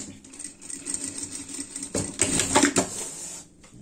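A sewing machine stitches a double reinforcing seam on a fabric car-shaped bed, a quick mechanical rattle that speeds up and grows louder midway, then stops.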